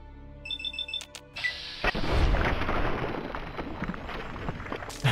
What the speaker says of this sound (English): Wait a minute, who's shooting at me?